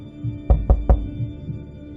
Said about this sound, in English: dull, clear knocking sounds like striking everyone's hearts suddenly rang out with an almost eerie tone